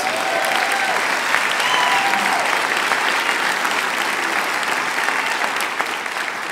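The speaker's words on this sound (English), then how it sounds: "give her a round of applause" Audience at a political talk breaks into loud, continuous applause for a journalist introducer, dense clapping sustained evenly throughout with faint cheers and voices underneath.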